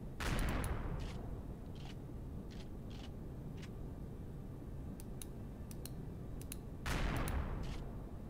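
Artillery shells fired from orbit at a tower structure in a sci-fi video game: two heavy booming impacts at the start and near the end, with scattered sharp clicks and a constant low rumble between.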